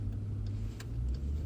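A 2018 Jeep Trackhawk's supercharged Hellcat engine in sport mode, a deep, steady exhaust rumble idling close by with a faint higher whine on top.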